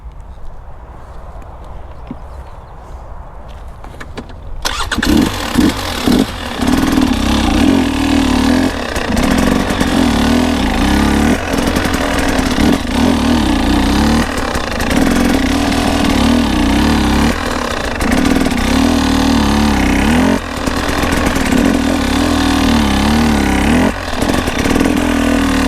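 After a few quiet seconds, a motorcycle engine starts loud and close, held in first gear on the clutch while rolling forward up a bank, with a steady rumble and rhythmic low pulsing.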